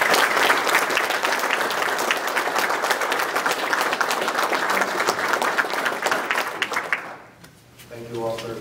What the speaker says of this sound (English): Let's give him a round of applause to Chief Miller,